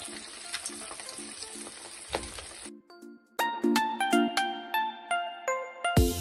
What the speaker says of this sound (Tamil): இப்போ ஆயில் சூடாயிடுச்சு, நம்ம சிக்கனை போட்டு ஃப்ரை பண்ணி எடுத்துடலாம்.